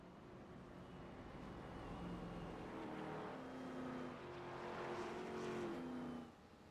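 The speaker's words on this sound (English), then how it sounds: "got a fleet of cars coming down pit road" A pack of race cars in the iRacing video game drives down pit road at Kansas in an ARCA-style series, their engines droning and shifting pitch together in a steady, sustained roar that eases off at the end.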